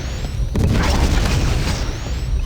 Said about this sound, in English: a pump-action double-barrel railgun, but unfortunately its projectile is slow